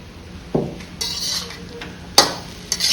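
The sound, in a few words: chicken pieces stir-frying in a pan for fried rice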